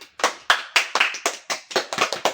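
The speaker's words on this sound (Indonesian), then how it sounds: "Kita beri tepuk tangan untuk saudari Ii." Classroom applause for a student teaching a fiqh lesson: a short round of a few people clapping in a loose, uneven rhythm, sharp, close and sparse.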